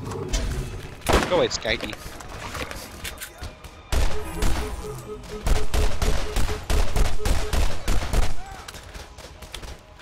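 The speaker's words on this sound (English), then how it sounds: "it's an early sniper rifle, so it doesn't really have good accuracy to it" Shots from an early sniper rifle in Borderlands, a few sharp loud cracks among other gunfire and game noise, with a person briefly speaking.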